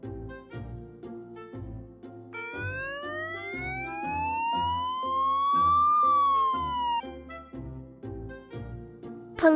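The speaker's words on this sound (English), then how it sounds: "Police motorcycle." Police motorcycle siren wailing loudly in a single rising and falling sweep over a bouncy children's music backing, with the music continuing before and after.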